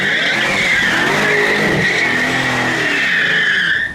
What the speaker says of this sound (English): the fun part about the live rear axle is it makes it very easy to spin around